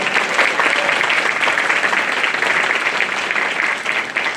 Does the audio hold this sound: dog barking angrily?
no